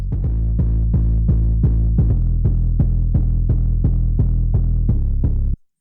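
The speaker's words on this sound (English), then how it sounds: "synth bass movement" A deep, heavy synth bass pulses in a steady rhythm, each note starting with a sharp attack over a constant low drone, then cutting off abruptly.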